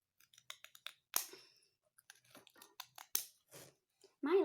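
Scissors cut craft material for homemade Schleich toy horse jumps, giving a few sharp, close snips among softer clicks and handling noises in a quiet room.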